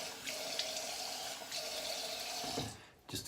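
Cold water runs from a tap into a sink while a face is rinsed after a straight razor shave, a steady close splashing flow that stops near the end with a brief clatter.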